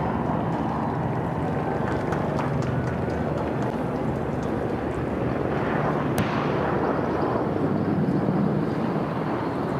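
First wave of an RAF military aircraft flypast over Buckingham Palace at Trooping the Colour, a broad continuous engine roar with steady crowd noise, loud and building slightly over ten seconds.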